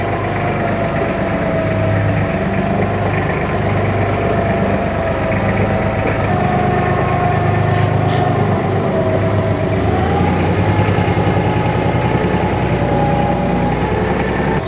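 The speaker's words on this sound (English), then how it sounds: "We're gonna get the tractor in here and lift this up" A Kubota L-Series tractor engine drones steadily at idle throughout, a low continuous rumble with a slight shift in pitch partway through and no voices.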